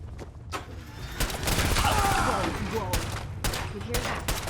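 Gunfire crackles through a gunfight in the video game Fallout 4, with repeated shots and bursts rising and falling over several seconds, fairly loud and close amid game sound effects.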